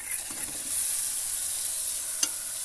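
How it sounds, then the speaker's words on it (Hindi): Desi chicken going into a pot of hot oil for aloo gosht gives a steady, close sizzle with faint stirring, plus one sharp clink near the end; no one talks. "अब हमारा टाइम आ गया है कि हम अपना जो देसी चिकन है डाल दें।"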